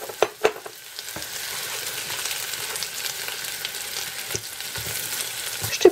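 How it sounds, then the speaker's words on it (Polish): Mushrooms sizzle steadily in browned butter in a pan, a continuous close frying hiss with a few sharp clicks and stirring knocks near the start. "Masło się ładnie już rumieni, to teraz jak się zarumieniło, dopiero wrzucamy pieczarki i obsmażamy"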